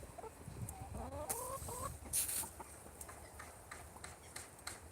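Chickens cluck in an outdoor plot, a short run of stacked calls early on followed by scattered soft clucks and faint bird chirps over steady background noise; no one speaks.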